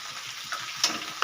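Turmeric and chili powder fry with salt in a pan for a fish-head and chickpea curry, giving a brief close sizzle broken by a few quick scraping taps of stirring.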